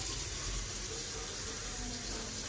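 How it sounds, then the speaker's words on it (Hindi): Water runs steadily from a tap at an airport, a constant close hiss and rush that holds even for the whole stretch with no one speaking. "यहाँ पे ऐसे करने से पानी आता है"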